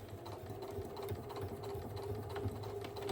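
A sewing machine runs a straight seam down the edge of a fabric bag, a quiet, close, steady whirring with fine rapid needle ticking throughout, no speech over it.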